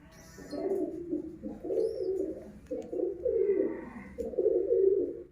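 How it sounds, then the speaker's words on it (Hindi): Pigeons in a pigeon room with their chicks coo softly in repeated low, throaty phrases, one after another with short pauses, close by and without any voices. "ये कमरा है कबूतरों का।"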